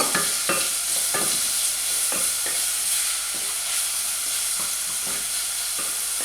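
Onions frying in a pan for chana masala, a constant bright sizzle with regular scraping strokes of a spoon stirring them roughly every half second, close and steady.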